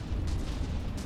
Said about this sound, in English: Cram shells dropping in here.